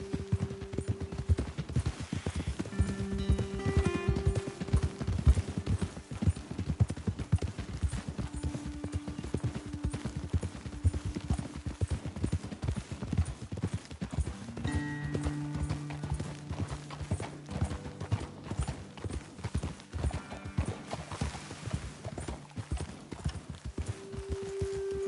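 Horse hooves clip-clop in a steady walking rhythm while riding in Red Dead Redemption 2, joined by an occasional whinny and snort, with tonal music drifting underneath.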